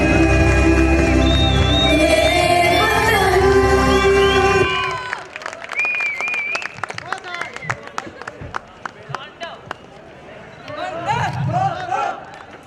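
An audience at a college annual function claps and cheers. Loud music and shouting open the passage, then scattered claps, calls and children's voices carry on at a lower level.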